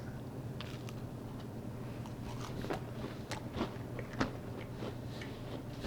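Close, quiet crunching bites and chewing of crisp, wafer-like keto oatmeal lace cookies, several soft crackles scattered over a low steady background hum.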